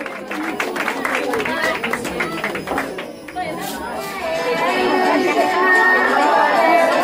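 Audience at a Christmas concert breaking into applause, crowd chatter and scattered clapping at first, swelling into steadier, louder clapping toward the end, with someone speaking over the start.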